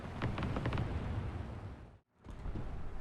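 A Chi-to Late tank cannon in War Thunder fires several quick booming shots in a row over rumbling battle noise. Sound briefly drops out, then the rumble returns.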